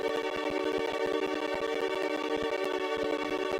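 A redstone torch in a video game gives off a steady buzzing, crackling hum with rapid even flicker, continuous and moderately quiet throughout.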